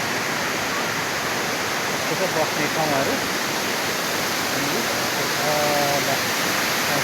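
River flowing at a Malaysian temple park, a steady broadband rush of moving water filling the scene, with people talking faintly over it.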